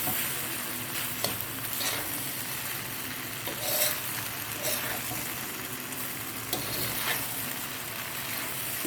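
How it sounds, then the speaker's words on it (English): Chowmein noodles and vegetables stir-frying in a hot pan, a steady close sizzle and scraping stir with occasional louder clatters of the utensil, no talk. "As you stir, you kind of shake it up because you're loosening the vegetables between the Chowmein"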